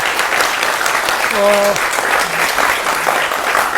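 A studio audience at a televised defence discussion gives sustained, loud applause, with a brief voice heard through the clapping.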